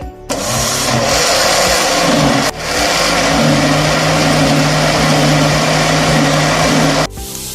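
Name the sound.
grinder mixing yogurt and gram flour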